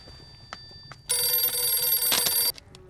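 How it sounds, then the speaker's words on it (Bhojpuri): A telephone rings with a loud, bright electronic bell trill that lasts about one and a half seconds, alone in a quiet room after a few faint ticks. "फोन बजता।"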